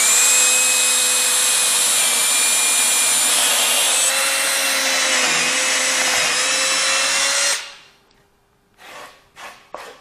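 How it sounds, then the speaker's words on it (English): A drill bores a hole with a loud, steady high whine that holds for several seconds and then spins down, followed by a few short bursts. "let the drill do the work."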